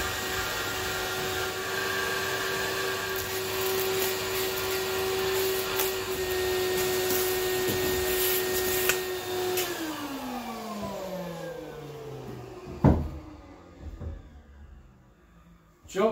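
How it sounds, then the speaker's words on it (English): Vacuum cleaner hoovering the carpet of a car interior, a loud steady whine that holds for several seconds, then winds down in pitch as the motor is switched off, followed by a few knocks and handling sounds. "Let's carry on hoovering"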